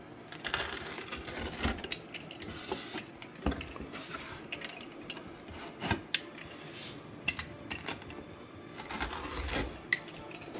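A knife or cutter scrapes and crunches through a baked Sonoma Flatbreads uncured pepperoni gluten-free pizza, with repeated close rasping cuts and sharp clicks on the pan.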